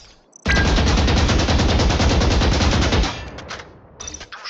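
Sustained automatic gunfire from a Valorant weapon emptying a full magazine at a target, a dense continuous rattle of rapid shots lasting about two and a half seconds, then scattered fainter clicks and shots.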